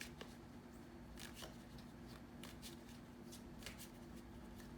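Tarot cards being shuffled by hand, with a soft, steady papery riffling that comes in repeated quick bursts at a close, quiet distance.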